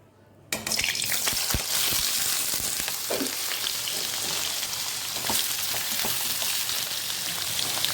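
Boiled papaya pieces fry in a pan with a steady, close sizzle that starts abruptly after a short quiet moment, with occasional stirring clicks throughout.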